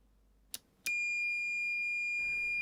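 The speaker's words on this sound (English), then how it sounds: "If you leave a lead in a socket for current and turn a voltage range on, it beeps until you fix the problem." A Martindale MM68 multimeter sounds its input alert for a lead left in a current socket: a couple of faint clicks, then a continuous high-pitched electronic beep held steady, close and quiet.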